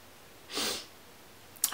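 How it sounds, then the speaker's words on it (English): A person with a runny nose gives a short sniffle, a soft breathy rush followed by a sharper, quicker second sniff, close and fairly quiet. "Oh, I've got the sniffles."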